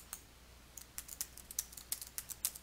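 Typing on a computer keyboard, a string of light, irregular key clicks, faint and close, with short pauses between bursts and no talking.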